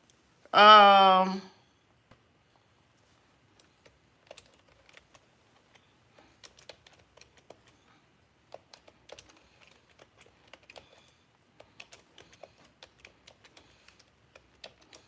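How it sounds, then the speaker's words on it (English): An email address is typed on a computer keyboard as a run of quiet, irregular key clicks, heard after a brief spoken phrase at the start. "I think the first thing I'm going to do is type in my email address."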